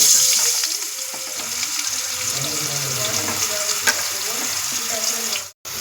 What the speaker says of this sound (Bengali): তেলটা গরম হয়ে গেছে এবার আমি সয়াবিনগুলো দিয়ে দেব